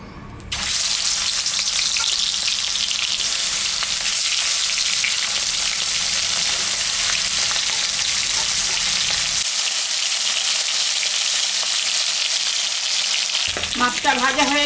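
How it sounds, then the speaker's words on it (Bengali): Catla fish frying in hot mustard oil in a kadai, a loud, dense, continuous sizzle that holds steady throughout, with a brief stirring or shifting noise near the end. "তেল গরম হয়ে গেছে, মাছটা এখন আমি ভাজবো।"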